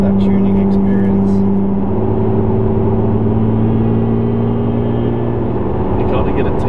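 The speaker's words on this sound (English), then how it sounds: "You kind of get a tease when you hear the supercharger starting to spool up." A supercharged Toyota Hilux engine holds a loud, steady drone with a rising whine as the supercharger begins to spool up, continuous and close throughout.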